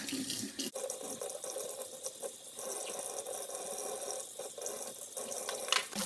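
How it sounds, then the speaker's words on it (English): Hot water from a tap runs steadily over the filter parts of a Bosch dishwasher, a continuous close splashing hiss at a sink with small shifts as the parts move under the stream. "Now, all you need to do is just run some hot water over these parts."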